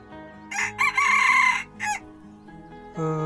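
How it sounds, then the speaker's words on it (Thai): A farmyard rooster crows loudly and nearby in a few bursts, with shorter clucking calls between them and no talk over it. "ขันม่วนเนาะ"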